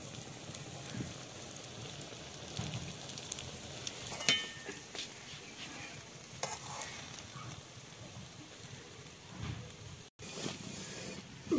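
Egg and lentil fritters fry in a pan of hot oil, a steady close sizzle with occasional stirring scrapes and soft pops, no one talking.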